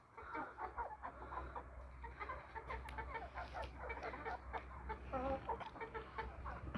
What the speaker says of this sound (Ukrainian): Кури, як завжди, на мій голос до мене повилітали